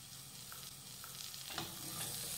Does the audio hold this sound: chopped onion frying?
yes